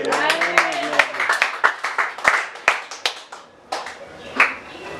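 A church congregation claps and applauds in praise: scattered, uneven hand claps in quick succession, fairly close, with a voice briefly audible at the start.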